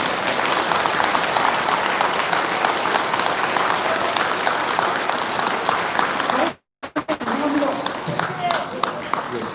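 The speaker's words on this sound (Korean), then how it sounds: "우리 참 격려의 박수 한번 부탁드리겠습니다." A crowd applauds in a dense, steady wash of clapping for several seconds before it cuts off abruptly, leaving a few scattered claps.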